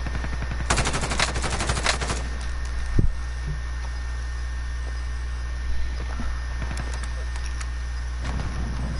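Automatic gunfire in the console shooter Warzone, with dense rapid bursts early on, a sharp louder shot near the middle and scattered single cracks later, over a steady low rumble.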